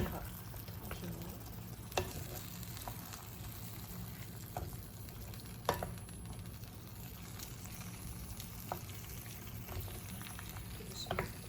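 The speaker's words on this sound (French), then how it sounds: "Voilà, on mélange bien tout ça. Délicatement. Ça continue à cuire tranquillement." A veal and chickpea tajine simmers in a pot while being gently stirred: a soft, steady bubbling hiss with occasional faint spoon clicks against the pot.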